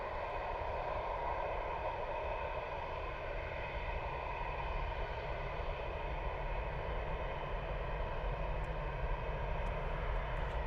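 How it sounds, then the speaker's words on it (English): An EasyJet Airbus A320 jet passing overhead on arrival at Bristol Airport, a steady broadband roar that holds at constant loudness throughout, with a little wind mixed in. "our next EasyJet A320 comes into shot"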